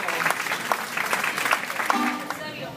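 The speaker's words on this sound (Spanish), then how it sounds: "un aplauso para Jenny, Emily." A crowd at a baptism party applauds, with dense, continuous clapping and sharp individual claps poking through, while a voice carries on over it.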